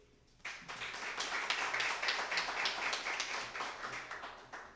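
Sustained clapping from an audience at a Black Lives Matter tribute kickoff event begins abruptly and carries on steadily for several seconds, moderately distant and full, with no talk over it.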